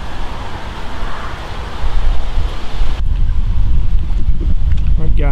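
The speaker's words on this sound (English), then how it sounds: "sorry about the wind" Wind gusting at a lake on a tench-fishing bank, buffeting the microphone in a loud, rumbling roar that swells stronger halfway through, with no clear talk.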